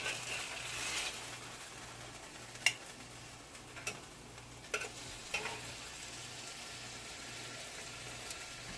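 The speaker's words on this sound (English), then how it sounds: "So I'm going to go ahead and put my slices in this pan right here." Slices of jerk-seasoned chicken breast sizzle in a pan with a steady, fairly quiet hiss, broken by a few sharp ticks and clicks, and no talking.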